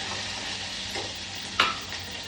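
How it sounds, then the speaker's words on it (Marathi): Dal sizzling in a frying pan as a spoon stirs it, a steady hiss with one sharp clink of the spoon against the pan, quiet, no voices. "चमचा फिरव त्याच्यात लवकर"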